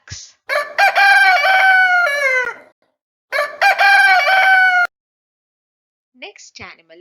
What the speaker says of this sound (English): The hen clucks.